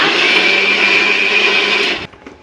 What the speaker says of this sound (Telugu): నేను వేస్తాను మిక్సీ నాకు అలవాటు కదా ఇప్పుడు